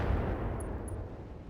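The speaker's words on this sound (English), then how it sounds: "we're going to fire artillery over at this sentinel in artillery mode" Artillery fire in the RogueTech mech battle game, a heavy, sustained low rumble of guns firing out at a distant target, steady and loud for the whole moment with no voices.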